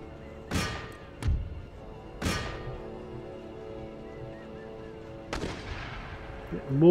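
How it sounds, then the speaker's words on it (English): Mortar and artillery fire from a battle in the strategy game Empire: Total War booms out in three heavy, fairly close blasts spaced about a second apart, then a fourth louder report after a pause, each fading into a long rumbling tail. "Mortars have engaged, or begun engaging."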